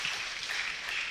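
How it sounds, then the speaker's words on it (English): Crowd applause during a Tantrayana teaching session by Grand Master Lu, a short continuous patter of many hands clapping, fairly soft and even, with no talking over it. "You need to applaud like that in order to stay awake"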